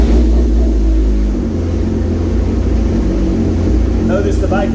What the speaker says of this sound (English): Notice the bike is running.